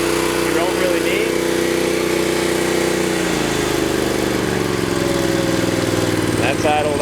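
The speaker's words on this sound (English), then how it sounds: "Idled all the way up." Power Trac tractor engine running at full-throttle idle, a steady loud mechanical drone throughout with a pitch shift partway through, close by.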